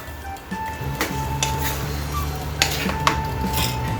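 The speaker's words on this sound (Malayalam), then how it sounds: "ഒന്ന് ചെറുതായിട്ടൊന്ന് ഇളക്കി കൊടുക്കാം." A spoon scrapes and clinks against a clay pot as chicken curry is stirred, with a few sharp knocks and a low steady hum underneath.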